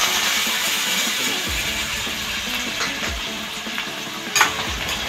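Cut potatoes frying in hot oil with browned cumin sizzle loudly and continuously, close by. Occasional scraping stirs and a brief clatter near the end break the steady hiss, and no one speaks.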